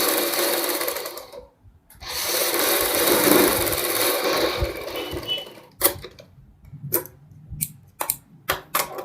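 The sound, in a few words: sewing machine stitching fabric along marked lines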